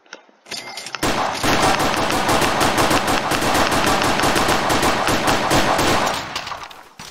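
Rapid automatic gunfire from a gun in a Roblox tycoon video game blasts in a loud, continuous burst of dense shots for several seconds, then trails off into a few scattered final rounds.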